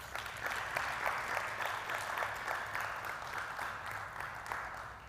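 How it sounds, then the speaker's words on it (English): Pageant audience applauds sponsors with sustained, even clapping from many hands, moderately distant and steady throughout. "Can I get a round of applause for these wonderful sponsors?"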